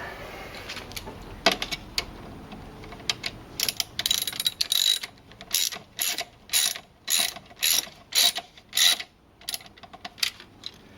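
A ratchet turns a socket while working on the intake manifold of a Mercedes-Benz W202 C280, a close run of clicking pawl strokes that settles into a regular back-and-forth rhythm of bursts.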